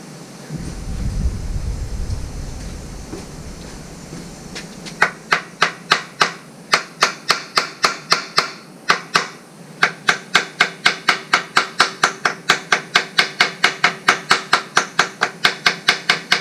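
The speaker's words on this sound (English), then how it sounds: "I'm gonna get a brass hammer and tap around on the valves" A brass hammer taps repeatedly on the stuck valves of an old Goodall Chargall 12/24 volt engine-driven charger. Sharp metallic knocks come in a steady, quick series with a few pauses, following a rustling start.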